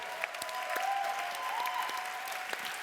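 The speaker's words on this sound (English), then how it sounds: "let's give a huge round of applause to our delegate speakers and to our counsellors." Applause from the audience at a youth summit plenary session in Bangkok, fairly quiet and even, with scattered claps and a faint tone in the background.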